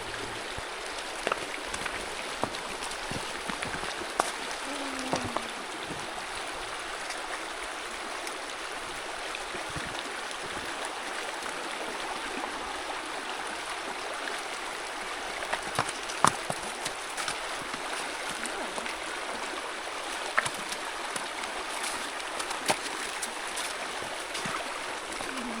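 Creek water flows steadily as a mustang horse crosses, a constant wash of rushing stream with occasional splashes and knocks from hooves breaking through the surface.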